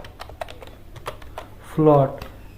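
Python code is typed on a computer keyboard in a rapid run of light, close key clicks, followed by a brief spoken voice near the end.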